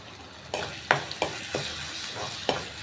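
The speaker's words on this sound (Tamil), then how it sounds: "நல்லா வதக்கிக்கிறலாம் அந்த தேங்காய் சேர்த்துருக்கேன் பார்த்தீங்களா" Grated coconut and curry leaves sauté in a pan for Kerala erissery kuzhambu, spatula scrapes striking at a regular beat roughly twice a second over a soft, steady sizzle.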